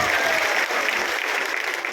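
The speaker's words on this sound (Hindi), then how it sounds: "अरे ताली बजाना तो जोर से बताओ" An audience at a chief minister's public rally in Seoni bursts into steady, dense applause, loud and sustained throughout with no voices on top.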